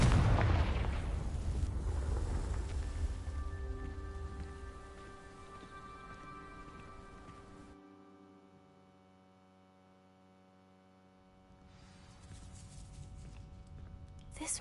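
Dry vines burning after a Confringo fire spell in Hogwarts Legacy, a loud crackling burst that settles into a tonal magical hum, drops to a faint quiet stretch, then swells again at the end.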